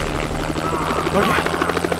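A helicopter in the VR video game Crisis on the Planet of the Apes roars steadily with a dense rotor thrum and buzz, loud and close, and a voice talks faintly beneath it.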